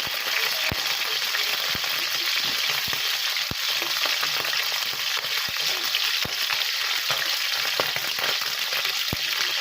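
Milkfish fries in hot oil with a dense, steady sizzle and scattered sharp pops and spatters, close and constant throughout, with no voices.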